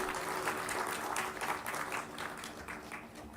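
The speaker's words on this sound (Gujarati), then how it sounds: "તાળીઓનો ગડગડાટ કરી એમનું સ્વાગત કરીએ" An audience at a discourse event applauds to welcome a speaker, with steady, moderately loud clapping from many hands that holds throughout and thins slightly near the end.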